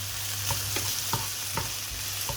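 Meat and potatoes for Georgian ojakhuri sizzle in a frying pan while a utensil stirs them, with a steady fry hiss broken by several scraping strokes in an even rhythm, close and clear with no voices.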